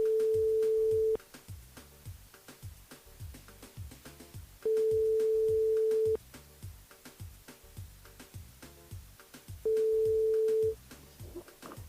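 Telephone line tones while a radio station calls a listener: a steady beep sounds three times in long, evenly spaced pulses, with quieter clicking and rhythmic line noise between them and no voices.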